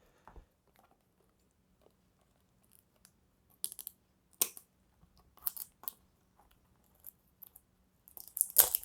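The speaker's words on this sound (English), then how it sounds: "I do have scissors, but the plastic wrap is really tight around this box." Sparse, quiet crinkling and snipping sounds as scissors cut tight plastic wrap off a trading card game box, a few short bursts over a near-silent background, ending in a louder rustle.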